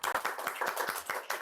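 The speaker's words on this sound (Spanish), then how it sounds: "Queremos que recibamos con un fuerte aplauso a Felipe." A church or faith-show audience claps to welcome a guest, a fairly quick, rhythmic run of individual hand claps, moderately close and clear, with no talk over it.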